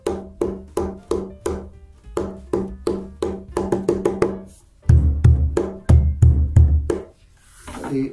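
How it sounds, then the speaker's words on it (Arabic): Sharp, dry tak strokes on the rim of a hand drum ring out in a quick rhythmic pattern, close and crisp, with deeper doum strokes mixed in partway through before the playing stops. "صوت التك اللي هو هنا وهنا."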